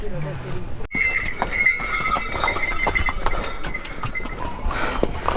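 Horses trot along the crowded Kedarnath pilgrimage trek path, their quick hoof clip-clops steady and fairly close amid a busy background of voices and bustle, with people talking nearby.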